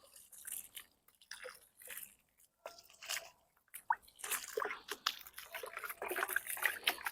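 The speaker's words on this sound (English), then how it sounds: "we're just going to carefully water this around where we know the root ball is at" Water poured by hand onto soil around the root ball of a newly planted persimmon tree, with irregular soft splashes, drips and wet squishing bursts, close and quiet, with no talking.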